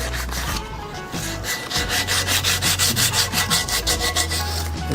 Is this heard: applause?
no